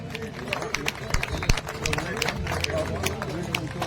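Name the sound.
audience applause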